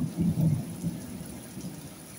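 Heavy night thunderstorm outside a window, with a low rumble of thunder near the start that fades into a steady hiss of rain.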